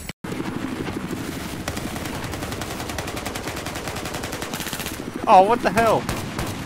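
Automatic weapon fire in Battlefield 4 rattles in dense, continuous bursts, close and loud throughout, while a voice exclaims over it near the end.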